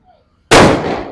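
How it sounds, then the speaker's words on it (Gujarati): A 555 firecracker bomb set off during Diwali bursts in a single loud, sharp blast after a quiet fuse wait, its roar decaying over the following half second. "ધમાકો થયો 555નો."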